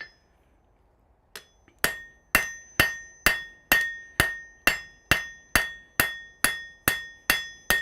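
Blacksmith dressing hot metal on an anvil in a smithy, about fourteen evenly spaced, loud ringing hammer blows with a bright metallic ring after each strike, following a brief quiet start.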